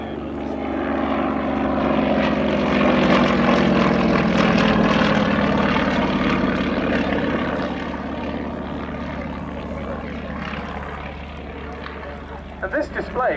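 Propeller engines of a Yak-52 and a De Havilland Chipmunk trainer aircraft at a flying display drone loudly as the planes pass overhead, the tone sliding and slowly fading as they move away.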